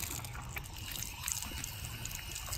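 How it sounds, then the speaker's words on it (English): Soft, steady trickle of water from a drinking fountain in a park, a faint continuous dribble heard close by amid outdoor ambience with no talking. "Sometimes they can drink right out of the fountain."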